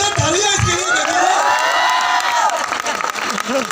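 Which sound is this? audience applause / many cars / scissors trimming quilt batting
audience applause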